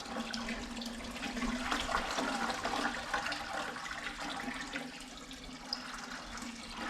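Water gushes steadily from a faucet into a 5-gallon bucket, a continuous close rushing hiss with no talking.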